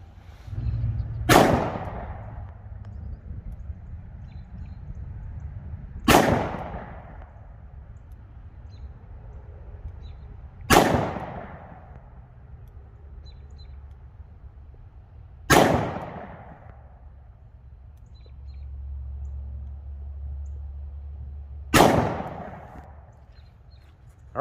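Five sharp, loud gunshots from a Chiappa Rhino .38 Special revolver fire outdoors at a slow, even pace about five seconds apart. Each crack trails off in a brief echo.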